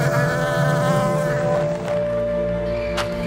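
Honeybees, black bees in a forest, hum in a loud, close, sustained drone with a steady pitch, and one bee passes briefly near the end.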